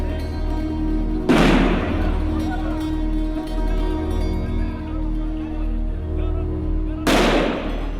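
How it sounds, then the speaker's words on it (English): Sound grenades exploding during a clash between Israeli soldiers and young Palestinians in the West Bank, two sharp loud blasts several seconds apart over a steady background of crowd and street noise. "Israeli soldiers have kept the young Palestinians at bay with sound grenades"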